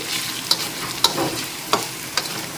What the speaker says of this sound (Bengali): কাশ্মীরি লঙ্কার গুঁড়ো আর জিরে গুঁড়োটা দিয়ে দিচ্ছি একটু ভালো করে নেড়ে চেড়ে নিচ্ছি